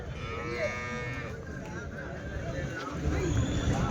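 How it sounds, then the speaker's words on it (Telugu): Cows moo at a busy Sunday cattle market in Chintamani, Chikkaballapur district, Karnataka, where local, cross and English breeds are sold; long lowing calls rise over crowd chatter and nearby voices. "ఆవులు, అలాగే ఇంగ్లీష్ బ్రీడ్ ఆవులు"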